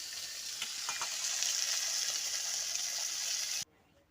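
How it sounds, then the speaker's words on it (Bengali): Pond fish frying in hot oil gives a steady, bright, crackling sizzle with a few small pops, close and loud, cutting off abruptly near the end with no voices. "এই যে মাছ ফ্রাই করা হতেছে এখন"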